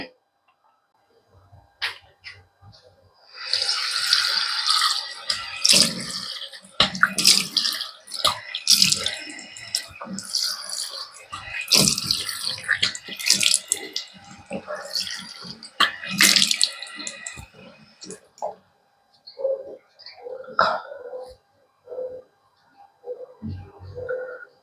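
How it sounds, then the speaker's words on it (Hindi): Tap water runs and splashes in bursts as someone washes their face in the morning, the water noise fairly close and broken by pauses. "और अभी मुझे अपना मुंह धोना है।"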